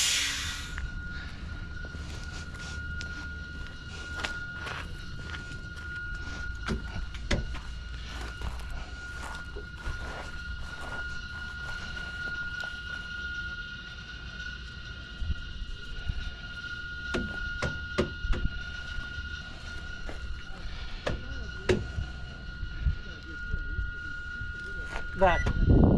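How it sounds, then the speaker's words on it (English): A truck's automatic tire inflator lets out a faint, thin, steady hiss that runs under scattered clicks, knocks and footsteps during a roadside inspection in Nebraska, with a low background rumble. "I think that is the automatic tire inflator."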